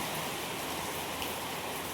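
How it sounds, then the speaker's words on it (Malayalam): Heavy rain falls as a dense, even hiss of countless drops, constant and moderately quiet throughout, with no voices. "നല്ല മഴയാണ് കേട്ടോ."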